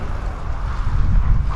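Strong wind buffets the microphone in a snowstorm, making a loud, rumbling, gusting roar that rises and falls slightly with no other sound.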